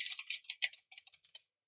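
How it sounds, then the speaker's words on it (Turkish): A noisy gaming keyboard is typed on quickly, a close run of sharp, clicky keystrokes in an uneven rhythm, heard alone for about a second and a half before stopping. "Sesli gürültülü bir klavyem var"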